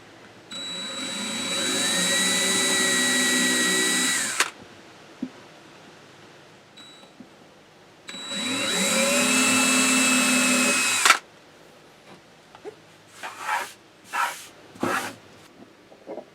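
Electric drill whirring in two sustained bursts, pitch rising as it drives screws into a thick table inside a Class C RV, followed by several short quieter taps and clicks.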